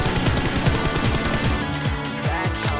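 Rapid automatic gunfire in PUBG Mobile, a dense stream of shots with quick repeated bursts filling the whole stretch, loud and close, with no talking over it.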